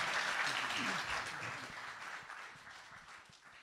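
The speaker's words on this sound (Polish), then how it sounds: "to jeszcze raz gromkie brawa" Audience applause after a presentation; a burst of clapping starts loud and gradually thins and fades, with a few faint voices mixed in near the start.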